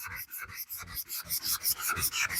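Automotive primer being hand-sanded before basecoat, working in cross patterns to remove orange peel and low spots: a steady rhythmic rasping scrub, close and continuous, with repeated back-and-forth strokes.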